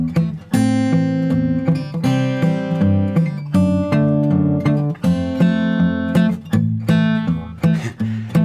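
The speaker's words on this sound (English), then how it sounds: "This time we'll do the second string. It sounds like this." Travis-style fingerpicked acoustic guitar with an alternating bass and the melody carried on the second string, a steady clear rhythm played alone and close.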